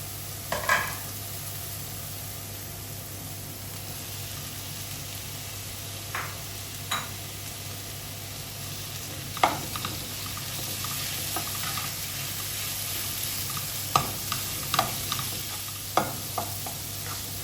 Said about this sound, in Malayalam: നമ്മൾ എടുത്തു വെച്ചിരിക്കുന്ന സവാളയും വേപ്പിലയും ഇട്ട് ഇളക്കി കൊടുക്കാം